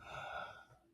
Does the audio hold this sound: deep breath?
yes